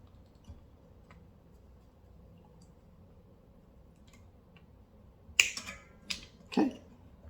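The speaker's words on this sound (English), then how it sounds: "I'm going to cut those wires off the bottom of that switch." Side cutters snipping through the wires of a defective lamp switch, with three sharp, close snaps in quick succession after a quiet stretch of faint room hum.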